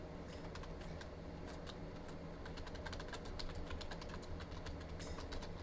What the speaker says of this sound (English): I type it in, I push tab and put it over here and then enter.